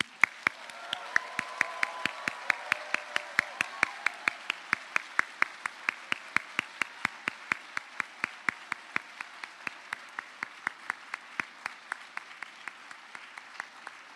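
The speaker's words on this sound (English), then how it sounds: "Let's give a round of applause for the class of 2030." A crowd at a medical school white coat ceremony applauds in sustained, rhythmic clapping that holds steady and loud throughout, with a few faint voices mixed in early on.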